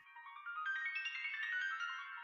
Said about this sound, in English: This is a long ringtone, by the way